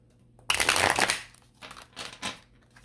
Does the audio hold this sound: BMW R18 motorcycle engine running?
no